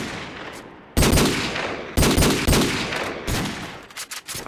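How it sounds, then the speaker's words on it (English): Loud bursts of rapid video-game gunfire, three long fusillades followed by a few short scattered shots at the end. "Porky is shooting at me"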